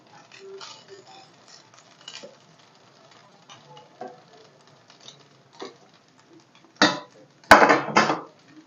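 Cooked rice tipped into a pan of curry leaf mixture, heard as faint scattered pattering and scraping that ends in a few louder bursts of rice and spoon hitting the pan.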